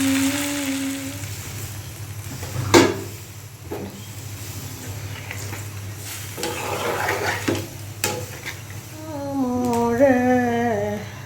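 Broth poured onto sizzling braised meat in a pan while cooking a pulao-style dish, with a steady frying hiss, a couple of sharp splashes, and bubbling rising toward the end, with background music playing throughout.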